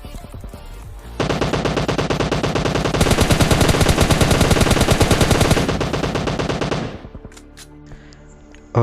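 Gunfire in the mobile game PUBG Mobile Lite, including an M24 sniper rifle, begins after a moment and rises into a loud, rapid, sustained volley of shots that stops abruptly near the end, followed by quieter game sounds.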